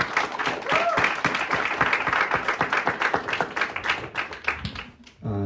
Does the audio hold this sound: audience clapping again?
yes